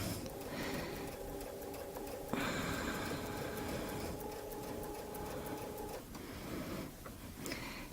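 A sewing machine stitches a quilt along a ruler template, a steady fast mechanical whir and ticking that runs throughout at close range, changing pitch briefly partway through, with no talk.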